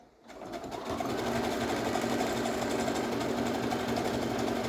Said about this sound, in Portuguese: eu vou passar uma costura pregando o forro da minha calcinha.